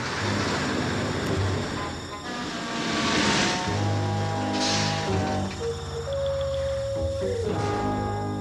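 A cartoon airplane drones overhead, its roar swelling and then fading away, with a few faint tonal sounds near the end.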